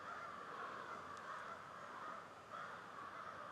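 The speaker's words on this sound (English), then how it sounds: "I just caught a glimpse of the crows." Crows caw high in the trees of a winter forest, faint and distant over a steady hiss of background noise.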